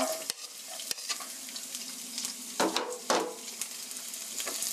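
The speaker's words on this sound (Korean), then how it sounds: "아까 썰어 놓은 갈릭 마늘 넣어주세요" Sliced garlic frying in hot oil in a pan, steady sizzle with intermittent stirring scrapes and utensil clicks, close and moderately loud, no talking.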